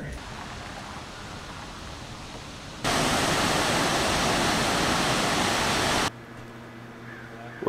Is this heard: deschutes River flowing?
yes